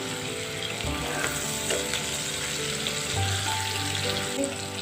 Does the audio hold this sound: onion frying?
yes